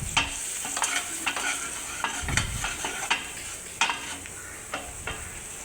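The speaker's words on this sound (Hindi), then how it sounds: "अब इसको हम एक पैन में फ्राई करेंगे, थोड़ा सा तेल डाल के 2-3 मिनट इसको फ्राई कर लेना है।" Potato cutlet mixture fries in oil in a pan, a steady close sizzle punctuated by repeated scraping stir strokes and light clinks, with no talking.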